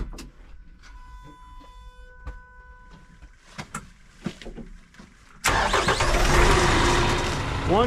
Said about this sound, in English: cold start on a cold day